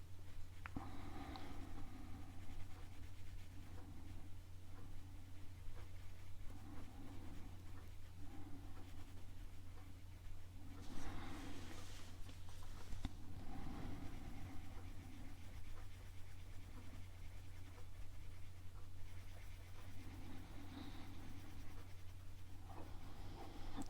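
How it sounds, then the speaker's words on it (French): A watercolor pencil colors paper in red, making soft, close scratchy strokes that come in short bursts over a faint steady hum. It is very quiet, with no voices. "Alors moi j'avais envie de colorier en rouge"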